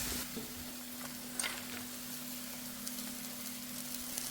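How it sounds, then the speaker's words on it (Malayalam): Carrot halwa of carrot and milk with cashews and raisins is stirred in a pan, giving a faint, soft sizzle with light scraping touches under a low steady hum. "എന്നിട്ട് നമുക്ക് അതിലേക്കിട്ട് നന്നായിട്ട് ഇളക്കി കൊടുക്കാം"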